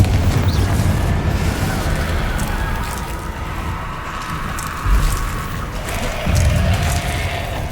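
Spell explosions and magical blasts from the video game Hogwarts Legacy, a steady rumbling boom bed with heavier bursts near five and six seconds, loud and continuous with no talk.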